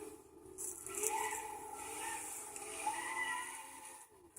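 Dodge Charger SRT8 sliding into oversteer in Gran Turismo 6, an engine note with a steady, moderately faint tire squeal that rises and shifts over a few seconds.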